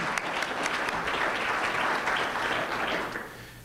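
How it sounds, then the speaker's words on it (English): A room full of audience members applauds steadily at a business leadership forum, dense clapping holding at an even level throughout before easing slightly at the end. "Can we give him a round of applause, please?"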